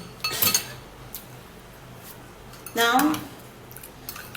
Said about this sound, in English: then you have to stir it